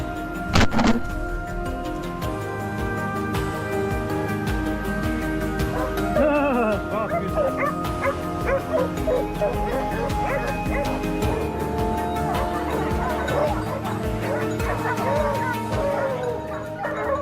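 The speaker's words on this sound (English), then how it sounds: "the hound's barking led me to my next target" Hunting hounds barking during a Texas wild boar hunt over a dense, continuous outdoor background, with sharp repeated yelps and barks rising from the din throughout.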